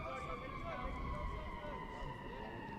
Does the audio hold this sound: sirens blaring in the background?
yes